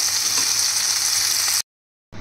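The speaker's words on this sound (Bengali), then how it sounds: "আমাকে এখানে সটে করতে হবে, ফ্রাই করতে হবে কিছুক্ষণ।" Potatoes sautéing in a pan, a loud, steady hissing sizzle close by that cuts out abruptly, then returns briefly after a short silence, with no talk.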